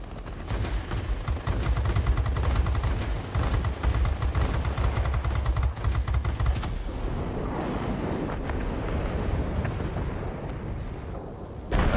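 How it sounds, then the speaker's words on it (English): Long bursts of rapid aircraft machine-gun fire from a D-5 Stuka dogfight in World of Warplanes, dense and loud for several seconds, then giving way to a roaring engine rumble. "I need to speed away whilst also shooting this guy."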